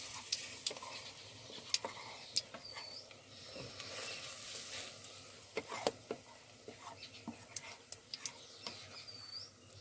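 Mustard seeds and spices temper in hot oil in a village kitchen, giving a soft, low sizzle under a string of sharp pops and stirring clicks, with faint birdsong in the background.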